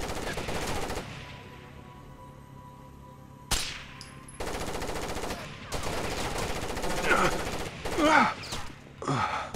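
Bursts of automatic gunfire in Rainbow Six Vegas 2, loud and repeated in rapid volleys with short gaps, mixed with game effects and occasional talk.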